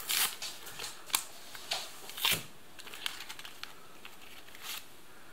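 A moist towelette packet from a Russian customs officers' 24-hour ration is handled and torn open, giving scattered crinkling and rustling bursts with a few sharper crackles, close and fairly quiet, with no talking.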